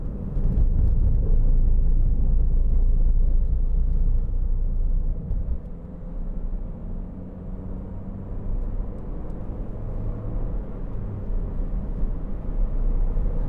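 A 2009 MINI Clubman 1.6 Cooper five-door on the move, giving a continuous low engine and road rumble from inside the cabin that stays fairly even throughout, with no talking.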